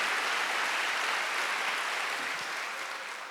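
Congregation clapping in a church during a Sunday worship service, a steady dense wash of many hands held at an even level for several seconds and easing off slightly at the end, with no voices over it.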